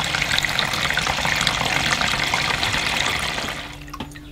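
Water pours steadily into an allotment watering tank, a broad continuous splashing rush that fills the scene, then eases off near the end as the flow stops.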